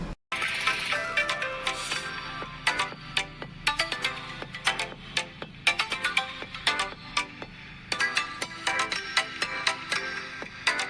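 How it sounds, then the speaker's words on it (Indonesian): Test music plays from the top and bottom stereo speakers of a Google Pixel 4 XL, a busy run of bright plucked notes and beats sounding close and fairly loud, with no talking. "Speakernya udah menggunakan dua stereo speaker atas dan bawah. Dan itu suaranya ngebass banget."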